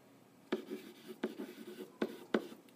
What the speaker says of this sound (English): So I'm going to continue going through and writing these out.